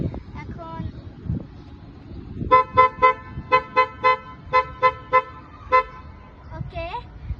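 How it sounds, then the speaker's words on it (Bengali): A 1990s Toyota ED with a 2000cc engine sounds a musical car horn: a short melody of about a dozen bright, evenly spaced toots, loud and close, ending in a sliding tone, with faint background noise before it. "এটা হর্ন দিয়ে অনেক সুন্দর মিউজিক বাজানো যায়।"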